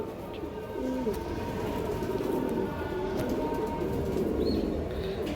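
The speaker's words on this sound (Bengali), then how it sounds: "এই যে দেখেন কবুতর" Old-breed racing pigeons at a loft farm coo continuously in a low rolling chorus, several birds overlapping at steady volume over a busy background.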